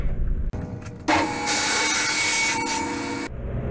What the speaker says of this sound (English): So now back here at the table saw, I've adjusted everything and I'm ready to cut my profile free.